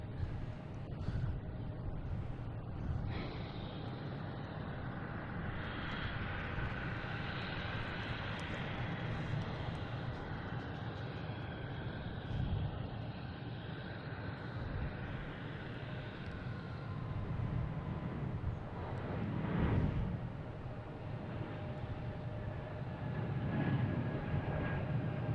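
A JetBlue airliner departs Boston Logan for DC, its jet engine roar a steady, broad rumble that holds throughout and swells slightly near the end.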